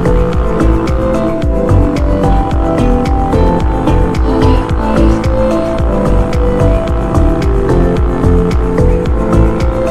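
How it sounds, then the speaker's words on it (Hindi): Heavy vehicles roll past along a road in steady, continuous traffic noise, loud and close with a dense low engine rumble and no talking. "बड़ी बड़ी वाहन जा रहे हैं, इनको ओवरटेक करने का तो मन है"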